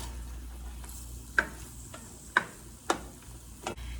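Garlic cooks gently in a pot over lowered heat, giving a faint, steady sizzle with a few soft clicks from stirring.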